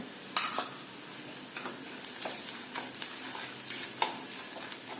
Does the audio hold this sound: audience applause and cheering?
no